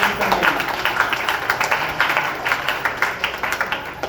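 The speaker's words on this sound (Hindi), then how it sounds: "एक थोड़ा ताली दिया" An audience gives a short round of applause at a business motivational talk, a steady patter of hand claps running throughout without any speech over it.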